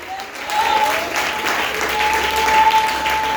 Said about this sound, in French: Mando, acclamez le Seigneur Jésus